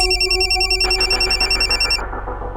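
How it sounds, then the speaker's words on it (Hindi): A telephone rings with a bright, steady electronic trill, loud and close, repeating over a couple of seconds before cutting off, with no talk over it. "राज फोन उठा प्लीज।"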